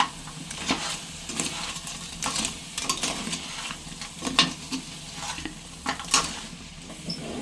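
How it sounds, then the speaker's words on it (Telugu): Crab curry with spices being stirred in a pan: a spoon scrapes and clinks in steady strokes over a soft background sizzle, close and moderately quiet, with no talking. "ఇప్పుడు అన్నీ మిక్స్ అయ్యేలాగా మిక్స్ చేసుకుందాం."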